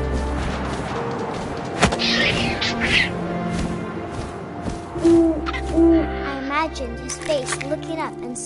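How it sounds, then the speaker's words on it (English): Owl hoots from the video game What Remains of Edith Finch, sounding over and over against a busy game soundscape of wind and other effects, with some background voice-like sounds mixed in. "And suddenly, I was an owl."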